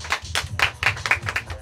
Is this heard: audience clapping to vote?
yes